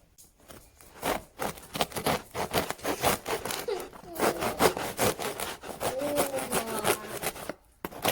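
A knife saws through a crusty sourdough loaf in quick repeated back-and-forth strokes, a dry scraping crunch with brief pauses, close and fairly quiet.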